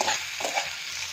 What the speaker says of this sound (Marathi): टोमॅटो पहा कसा छान भाजत आलेला आहे